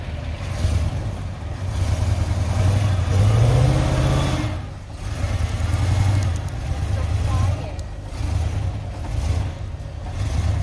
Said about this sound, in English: Want to hear a rev?